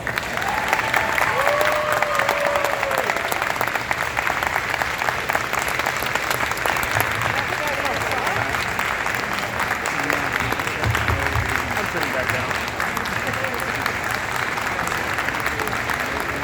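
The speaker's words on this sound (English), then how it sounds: "give a giant round of applause to Mr. George Perez" A large audience gives sustained, loud applause with some cheering mixed in, a thick continuous wash of clapping lasting well over fifteen seconds, with faint voices underneath.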